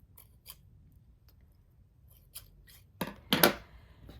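Shears trim the fabric seam allowance inside a wired bra cup, giving a few quiet, close snips spaced apart, with a louder pair of cuts near the end.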